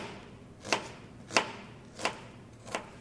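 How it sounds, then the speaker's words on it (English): A knife dices an onion on a cutting board in four sharp, evenly spaced chops about two-thirds of a second apart, close and crisp against a quiet room. "dicing means that I'm going to cut it into some small squares"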